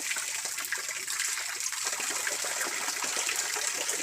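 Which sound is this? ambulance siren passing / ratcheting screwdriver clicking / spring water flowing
spring water flowing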